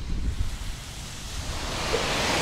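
Sea waves wash onto a city beach in Vietnam as a steady, broad surf roar with some wind noise, the wash gradually swelling toward the end, with no voices.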